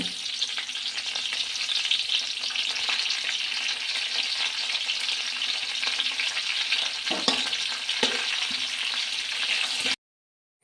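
Curry leaves crackling in hot oil for chitranna, a steady broadband sizzle lasting nearly ten seconds with a couple of brief scraping stirs toward the end, then an abrupt cut to silence.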